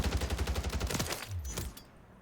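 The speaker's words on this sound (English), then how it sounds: "I'm shooting somebody right here, and then I'm getting shot" Rapid automatic gunfire from Call of Duty: Warzone, a fast steady burst of close shots that slows and breaks off near the end, with no talk over it.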